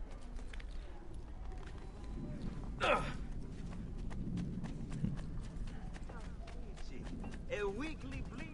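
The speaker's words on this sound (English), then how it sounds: "I can't go in here with the horse." Horse hooves clip-clop in Assassin's Creed II as the horse walks over hard ground, giving a steady rhythm of close, sharp clops, with sighs or gasps breaking in over the game ambience.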